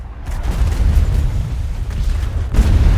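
A ship's cannon in ARK Survival Ascended fires during a naval fight, a loud deep boom with a heavy rumbling tail, followed by a second booming blast near the end.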